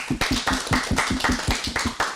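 Audience applauding scholars at a school quarterly awards ceremony for transitional kindergarten to second grade, heard as a steady run of fairly close, rhythmic claps lasting a couple of seconds with no talking.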